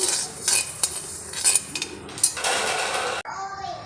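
Pearl millet grains being stirred as they dry-roast in a pan, a utensil scraping and clinking against the metal in uneven bursts, close and moderately loud, with a longer steady rustle near the end.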